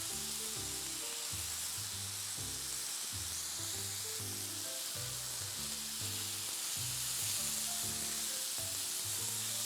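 Finely chopped onion frying with chicken on a hot tawa, a loud, continuous close-up sizzle that holds steady throughout, with a faint rhythmic tonal pattern running underneath and no talking.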